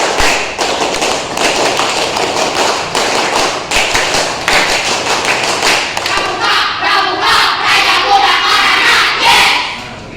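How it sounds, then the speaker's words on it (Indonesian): Classroom of pupils in scout uniforms doing the Indonesian scout clap, rapid patterned clapping bursts with chanted shouts, loud and close, with the clapping rhythm shifting into faster flurries toward the end. "Tepuk pramuka dulu yuk."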